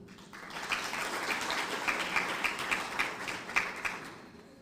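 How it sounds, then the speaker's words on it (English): Audience applause for the morning's speakers at a regional small-arms centre meeting, a steady wash of many hands clapping with a few sharper accented claps, filling the clip with no talk. "Can we give a big round of applause to all our speakers this morning?"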